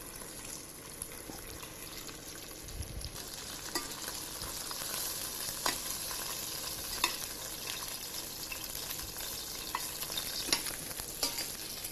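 Chicken thighs sautéing skin side down in a pan, a steady close frying sizzle lasting throughout with occasional light clicks and stirring sounds.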